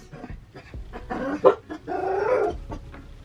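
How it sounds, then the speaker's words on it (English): Dogs bark and growl in short, uneven bursts, fairly close, with a louder stretch of agitated barking near the end. "While I'm waiting on them to chill out and stop barking"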